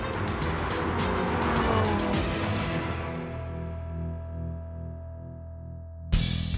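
A Lamborghini Huracán LP 580-2's naturally aspirated V10 screams at full throttle, then settles into a lower, steady drone before cutting off abruptly.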